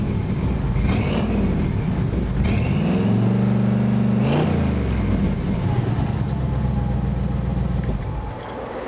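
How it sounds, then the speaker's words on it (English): 1951 Chevrolet 3100 hot rod with a Chevy 350 V8 and shorty headers, revving its exhaust close up: a loud, throaty rumble that rises sharply in pitch twice, then settles back to a lumpy idle. "Exhaust sounds really nice"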